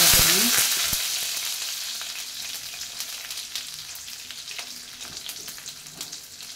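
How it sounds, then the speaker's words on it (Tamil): Mustard seeds, cumin and urad dal frying in hot oil, a loud close sizzle with quick crackling pops that gradually settles into a softer, steady hiss, with no voices. "கடுகு, சீரகம், உளுத்தம்பருப்பு இது வந்து இதில் போடுறேன்"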